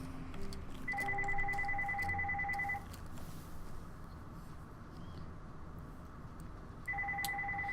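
A telephone rings in a room with two-tone electronic bursts, a long ring, a pause, then another ring starting near the end, moderately loud against a quiet background.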